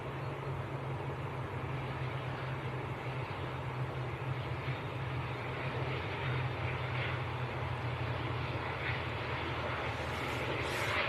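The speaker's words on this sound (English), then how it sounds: "Right, propeller time. Little Loganair ATR" A Loganair ATR 72 turboprop airliner at Manchester Airport, a continuous low propeller drone and engine rumble from a distance that grows slightly louder toward the end, with no talk.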